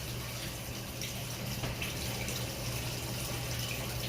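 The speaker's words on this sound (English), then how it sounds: "Just reheating this water here." Continuous soft rushing of water being heated for tea, an even bubbling hiss with a low hum underneath, close and fairly quiet with no talk.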